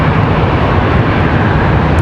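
Boeing 737-800 jet at Charlotte Douglas International Airport at night, a loud, steady engine roar with broad rumbling noise and no break.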